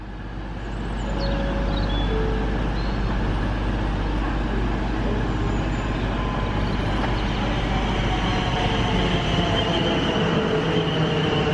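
A four-coach passenger train bound for Waterloo passes near Winchester, a close, steady rumble of wheels and motors that swells within the first second and then holds loud and even, with faint squeals over the rolling noise.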